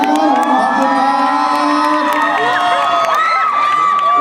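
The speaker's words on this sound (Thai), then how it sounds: "เสียงปี๊ส่งท้ายกับน้องไ้รย์ AF9 ด้วยครับ" A crowd cheering and shouting loudly, with high-pitched screams and whoops overlapping throughout.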